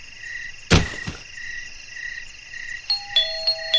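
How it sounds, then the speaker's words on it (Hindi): A doorbell rings with a bright ding-dong chime, preceded by a sharp knock-like thud and followed by a few short electronic tones, in a quiet indoor setting. "मेरी डोरबेल बजाते ही स्वीटी ने घर का दरवाजा खोला"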